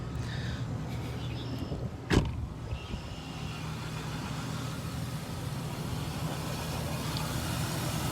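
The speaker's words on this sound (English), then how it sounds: "I'm going to turn it on so you can hear the compressor." The air-conditioning compressor of a 2003 Nissan Xterra SE supercharged SUV runs with a steady low hum and engine drone, with a single sharp click near the start, constant and close.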